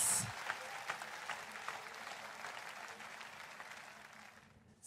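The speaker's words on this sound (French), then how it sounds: "Applaudissez pour Jésus" A French-speaking church audience gives applause for Jesus, faint, even clapping that holds steady throughout and fades at the close.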